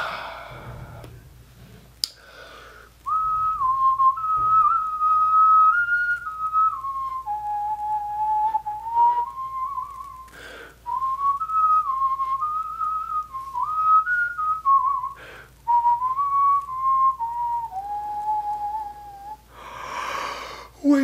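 Someone whistles a wavering, chirpy melody imitating a little bird, clear and close, in several long phrases broken by brief pauses, with a few soft clicks between.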